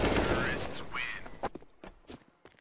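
Gunfire in a Counter-Strike match, rifle shots such as an AK cracking in quick bursts early on, then several sharper separate shots spaced out, with game ambience and a caster's voice underneath.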